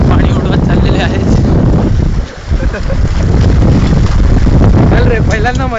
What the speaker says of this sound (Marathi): कोणी जाम पाणी उडवत चाललेले आहेत